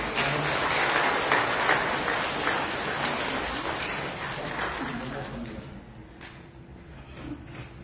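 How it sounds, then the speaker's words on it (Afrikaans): An audience at a church Sunday school prize-giving claps for the children. The clapping is steady and fairly close for several seconds, then thins out and fades toward the end, with some murmuring underneath. "Ons kan dan vir Lilliput hande klap."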